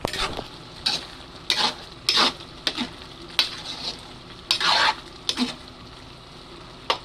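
A utensil stirs boiling soup in a pot, making repeated scraping, clanking strokes at an uneven pace over a low bubbling background; close and moderately loud, no talk.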